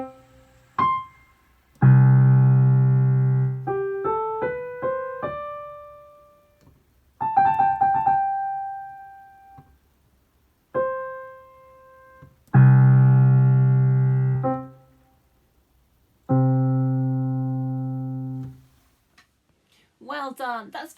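Separate piano notes and short phrases are played with pauses between them, some ringing out, clear and close, with a brief voice at the very end.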